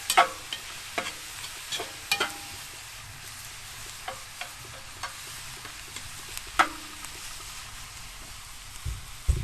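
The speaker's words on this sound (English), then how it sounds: "We're sizzling." Bell peppers and onions sizzle steadily in a hot pan, with occasional clinks and stirring scrapes over the crackle; no one speaks.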